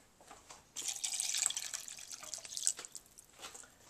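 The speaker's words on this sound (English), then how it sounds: "And we add 2 cups" Two cups of water poured from a tap or measuring cup into a pot for spicy Spanish rice, a steady close splashing stream for about two seconds with a brief second splash and softer trickling after.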